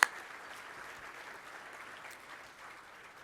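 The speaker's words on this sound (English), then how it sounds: "A round of applause again." Hall of Fame members are applauded at the Greater Cleveland Sports Hall of Fame induction ceremony, with a sharp onset and then a soft, steady patter of many hands at some distance, gradually thinning.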